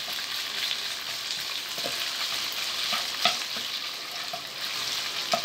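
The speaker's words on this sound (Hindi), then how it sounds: "तो अच्छी तरह आयल में हम कुक कर लेते हैं।" Chicken pieces for American chop suey frying in oil, a constant close hiss and sizzle with a few light stirring clicks and pops, no speech.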